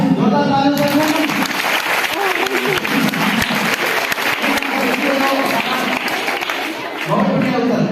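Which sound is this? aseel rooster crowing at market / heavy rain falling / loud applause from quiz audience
loud applause from quiz audience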